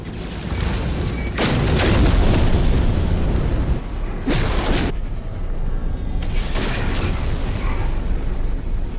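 Repeated rocket blasts fired at pirates in No Man's Sky, loud booming explosions in several bursts, with heavy detonations around one and four seconds and another near six seconds over a continuous roar.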